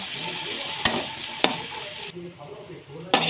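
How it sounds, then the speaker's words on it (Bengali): Turmeric, salt, chili powder and cumin powder fry in a pan for samosa filling, giving a soft steady sizzle broken by three sharp clacks of a spoon stirring against the pan, with no talking. "তারপর সামান্য হলুদের গুঁড়ো, লবণ, গুঁড়ামরিচ, জিরে গুঁড়ো দিয়ে ভালো করে ভেজে নেব।"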